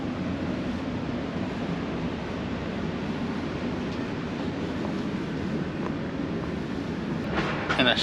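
The Caledonian Sleeper overnight train rolls steadily along the rails, a continuous low rumble with faint rhythmic clatter and a brief rattling near the end, with no talking.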